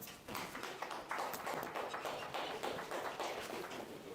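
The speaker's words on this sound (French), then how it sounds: "Est-ce qu'on peut applaudir, s'il vous plaît?" A seminar audience applauds at a talk on sales prospecting, with dense, steady clapping that fills the room at close range for several seconds and carries no speech over it.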